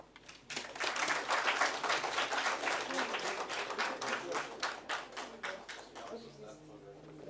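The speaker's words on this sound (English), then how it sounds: "Can we give a round of applause for that panel?" Conference audience applauds a panel at a university's inaugural conference; dense, sustained clapping from many people fills the room, slowly thinning toward the end, with faint voices beneath.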